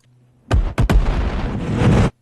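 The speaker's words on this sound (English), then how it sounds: "for the big guy here we also have another reverse explosion" Reverse explosion sound effect: a short rumble swells in, then three distinct punchy hits burst out and give way to a dense, roaring wash that cuts off abruptly after about a second and a half.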